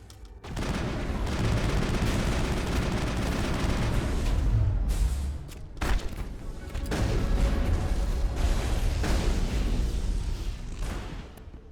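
A heavy firefight in Mass Effect, with sustained bursts of automatic gunfire and booming blasts, loud and dense, breaking off briefly near the middle before resuming and fading at the end.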